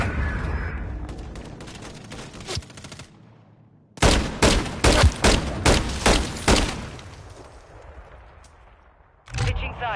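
Call of Duty Modern Warfare 3 gunfire: a loud burst of rapid shots, then a run of evenly spaced heavy single shots, with game noise and a fresh burst at the end.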